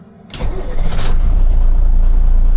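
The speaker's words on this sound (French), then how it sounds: "on a vu le démarreur est bien lancé vite" An expedition truck's diesel engine cranks briefly on the starter motor, then catches and settles into a loud, steady, close-up running rumble.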